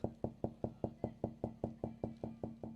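Knocking on a door: about fourteen evenly spaced, firm knocks in a steady rapid rhythm, close and clear, with no other sound around them.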